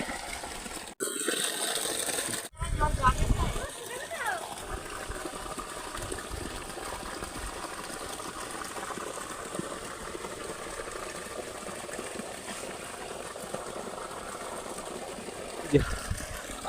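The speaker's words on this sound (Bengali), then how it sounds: "এই দেখো কি সুন্দর এই যে লাইন বাই লাইন কিন্তু জল চলে যাচ্ছে এখান থেকে" Water drains out of a village pond in the Sundarbans through a narrow channel, a soft continuous trickle and gush heard under a person talking, with a few sharp handling bumps near the start.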